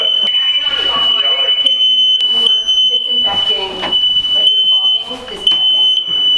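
A smoke alarm, set off by fog from a disinfectant fogging machine, shrieks in a loud, steady, piercing tone throughout while several people talk and react over it.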